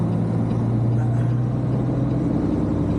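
An empty truck run by an owner operator, shifting gears without the clutch on throttle alone, a loud, steady low engine drone with a constant hum and no clear break, with no talking.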